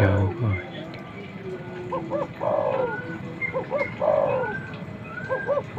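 Spotted doves coo in repeated soft two-note phrases at moderate distance, mixed with faint background noise and occasional voices.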